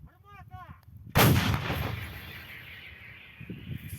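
A single loud Ukrainian army artillery gun blast booms suddenly after a brief chirp of birdsong on the Kherson front, followed by a long rolling echo that slowly fades.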